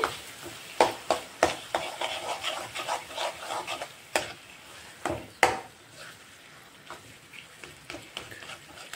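Eggplant tomato chutney stirred into a hot tempering in a pan, with a run of sharp spoon knocks against the pan at the start, then scraping strokes over a soft sizzle, close by.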